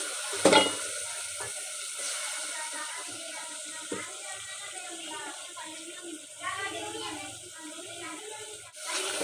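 Peas frying in a pan as fenugreek leaves go in, a close steady sizzle with stirring scrapes and a sharp clatter near the start, a voice speaking over it.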